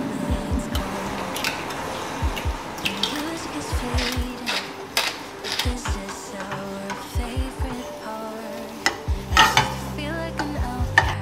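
Eggs being stirred and scraped in a pan, with repeated utensil knocks and scrapes over a light background sizzle, close by, while a person talks at times.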